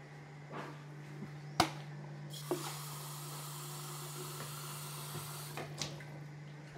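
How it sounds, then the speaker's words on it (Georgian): A few soft knocks and clinks, then water pours steadily for several seconds in a quiet room. "არ მაქვს წყალი, მოიცა ჩავასხა."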